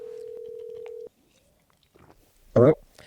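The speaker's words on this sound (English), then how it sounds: "Should we call Caleb back?" A steady telephone tone plays for about a second as a call is placed, followed by quiet and then a short, louder burst of voice or handset noise near the end.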